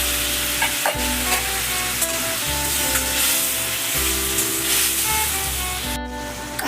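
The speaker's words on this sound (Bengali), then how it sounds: "আমি পটলগুলো ছেড়ে দেবো, ভাজা পটলগুলো" Fried pointed gourd is stirred in a loudly sizzling pan, a continuous close frying hiss overlaid with rhythmic scraping and rubbing of the spatula, with no voices.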